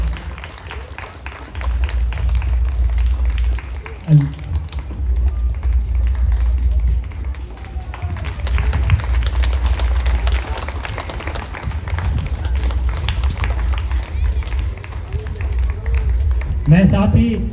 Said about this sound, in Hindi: तालियां बजती रही चाहिए।